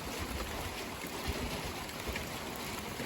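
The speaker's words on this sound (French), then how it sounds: "Il pleut bien plus là." Steady, dense rain pours with a constant hiss and patter during a December 2024 gale at night, joined by a broad windy rush, unbroken throughout.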